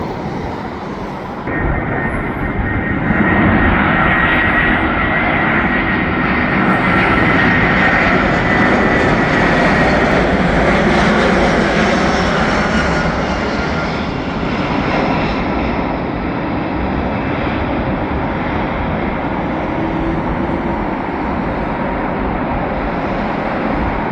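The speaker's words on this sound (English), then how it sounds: "I keep trying to find the optimal spot to see these planes." Airplanes come in to land near an airport, producing a loud, sustained jet roar and whine that swells and lingers for the whole stretch, heard alone outdoors.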